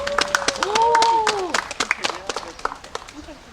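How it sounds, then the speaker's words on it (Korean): An audience claps at a presentation of a new Arirang song, sharp scattered claps running through the whole stretch while a voice carries over the first part. "여기서 박수 한 번 보내주세요."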